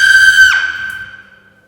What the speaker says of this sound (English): spine-tinglingly high-pitched scream.